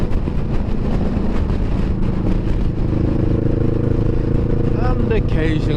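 Kawasaki Vulcan S motorcycle riding through left and right bends, a loud, steady engine rumble mixed with wind buffeting on the microphone, with faint, brief whistly sounds near the end.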